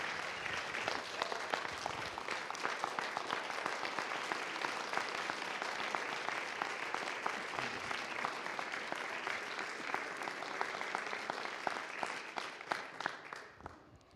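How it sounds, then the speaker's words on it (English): An audience at an annual meeting bursts into sustained applause, dense overlapping clapping holding steady for over ten seconds before tapering off at the end. "let's give her a big round of applause for everything that she's done"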